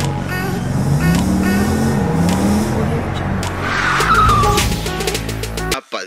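A heavy truck drifts with tires skidding and squealing in the Car Parking Multiplayer mobile game, engine roar continuous with a rising screech midway, loud and close, with brief voice fragments under it.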